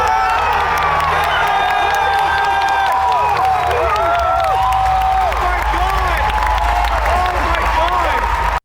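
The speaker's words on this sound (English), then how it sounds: "There's this great video of the live crowd reaction inside the convention center" A live crowd inside a convention center cheers and shouts at a steady, loud level, a dense wash of voices with whoops and scattered yells sustained throughout and no clear break.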